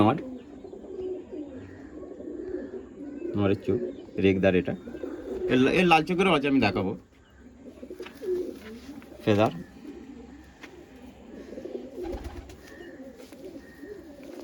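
Pigeons coo softly in the background at a pigeon sale and show while someone talks up close through much of the stretch, with a few brief louder bursts of bird noise.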